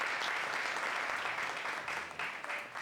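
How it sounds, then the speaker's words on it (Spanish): A crowd claps steadily, a dense, sustained burst of applause that stays loud and even, with no talking over it. "Un aplauso también para ellos."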